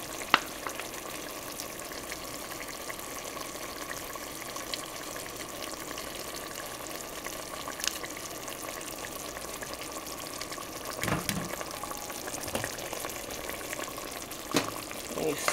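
Fish stew with canned tomatoes and tomato paste in a pot, quietly simmering and sizzling while a spoon stirs, with a few sharp scrapes and clinks near the end.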